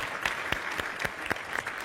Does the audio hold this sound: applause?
yes